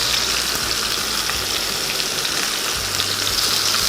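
Salmon heads fry in a hot pan, giving a steady, close hissing sizzle with faint crackle and no voices.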